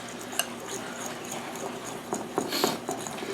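A fork scrapes and clinks in a bowl while mixing graham cracker crumbs with a butter and cinnamon mixture for homemade cheesecake, soft continuous stirring with a few sharper taps near the end.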